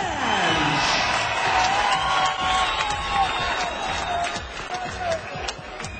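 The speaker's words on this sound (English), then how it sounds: "And a big round of applause to the runner-up, Pablo Ben!" A crowd at an MMA cage fight cheers and applauds steadily after the winner is announced. The noise is loud, with whoops rising above it, and a voice is faintly present in the mix.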